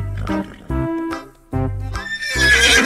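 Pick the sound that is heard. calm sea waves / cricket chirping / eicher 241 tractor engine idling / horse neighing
horse neighing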